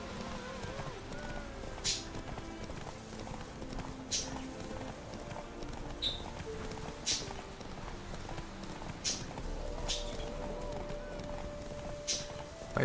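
In The Witcher 3, a riderless wild horse's hooves clip-clop in a steady rhythm of roughly one strike every second, close and distinct over a soft game ambience with faint music.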